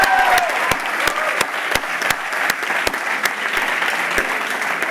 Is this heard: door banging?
no